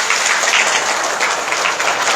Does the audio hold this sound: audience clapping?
yes